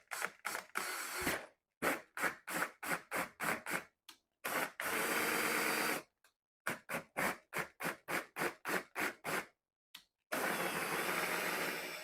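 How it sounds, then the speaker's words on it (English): A power drill whirs in repeated short bursts drilling pilot holes in plastic, starting and stopping rhythmically, with a few longer steady runs, close and fairly loud. "when you drill each of your holes, you can drill your pilot hole down"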